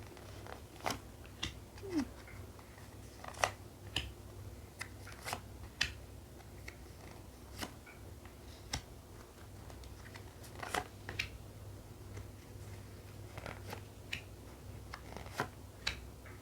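A deck of tarot cards is shuffled by hand at close range, making soft, irregular flicking and riffling taps spread across a long, otherwise quiet stretch with no talking.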